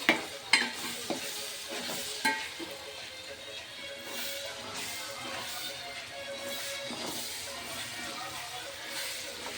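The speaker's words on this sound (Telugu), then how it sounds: "మనం మళ్ళీ ఉల్లిపాయ ముక్కలు తిప్పేసుకుందాం" Onion pieces frying in a pan are stirred with a few sharp scrapes at the start, then settle into a steady close-up sizzle and hiss with occasional soft stirring strokes.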